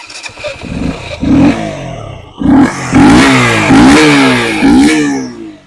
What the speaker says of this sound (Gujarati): સાયલેન્સરનો જે અવાજ આવવો જોઈએ ડ્યુકનો ખતરનાક જે હમિંગ એ હમિંગ આવે છે